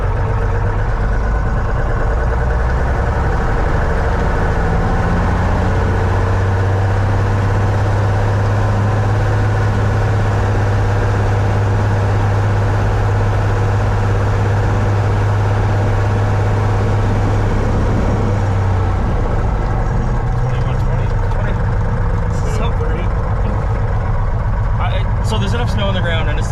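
Restored Cessna aircraft engine running at full throttle on snowy ground, a loud sustained drone with a strong low hum that shifts and eases near the end, with talking over it.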